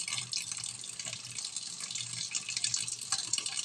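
Water pours steadily into rice for biko, a continuous splashing stream like a tap filling a pot, fairly quiet and close, with no talking.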